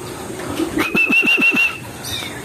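Pigeon sounds near a loft, a soft low coo followed by a quick series of rhythmic throaty pulses with a faint whistling tone over them, close and moderately loud.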